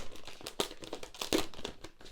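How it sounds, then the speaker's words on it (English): Crinkling plastic wrap and packaging as a packaged music album is opened, a close, continuous rustle with a few sharper crackles. "Let's go ahead and open up this album."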